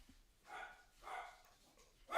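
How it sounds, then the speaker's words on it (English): A pet dog indoors gives three short, muffled barks spaced about half a second apart, moderately faint and somewhat distant, with no talking over them. "Oh, my dog's doing my head in."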